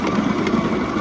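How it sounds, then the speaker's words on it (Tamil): An electric mixer beats butter and sugar for a two-kilo cake batter, a steady whirring motor drone with a slightly wobbling pitch, close and alone for about a second. "பட்டரையும் சீனியையும் பீட் பண்ணலாம்"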